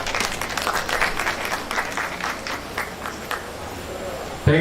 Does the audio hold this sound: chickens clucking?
no